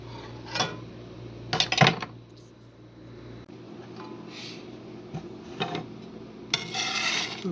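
A knife cuts through half a Vidalia onion on a board, a few crisp chopping strokes and rasping slices spaced out over a quiet kitchen background.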